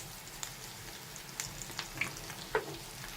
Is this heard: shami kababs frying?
yes